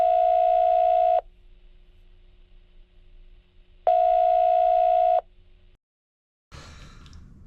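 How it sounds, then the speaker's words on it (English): A telephone line gives two long, steady tone bursts separated by a quiet gap with faint background hum, before the line cuts out briefly and a burst of noise follows, heard just before a phone call connects. "So right now I'm on the phone with Max Millander."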